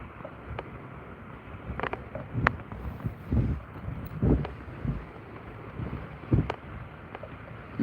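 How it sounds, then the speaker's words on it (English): Strong northeasterly wind buffets the microphone at sea from a fishing kayak, rumbling gusts rising and falling with scattered knocks and creaks from the boat, no talking. "It's blowing quite a heavily sort of northeasterly wind"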